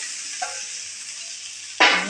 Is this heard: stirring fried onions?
yes